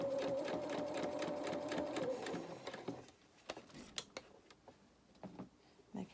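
A sewing machine stitches a faced lining along a neckline edge, running as a steady, loud mechanical whir for about three seconds, then stopping and leaving scattered soft clicks and handling taps.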